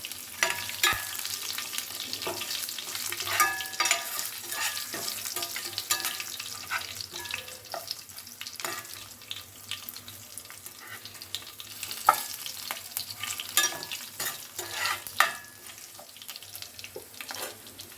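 Mustard seeds, dried red chillies, chana dal and cumin sizzle in hot oil for a tempering, with a continuous crackling fry, scattered sharp pops and occasional stirring clinks, moderately quiet and without talk.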